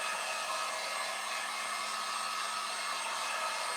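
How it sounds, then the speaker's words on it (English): A heat gun blows hot air over a decorated pumpkin to dry its paint. The whoosh is steady and continuous, moderately loud and close, with no talking. "So I'm going to take my heat gun and I'm going to dry this."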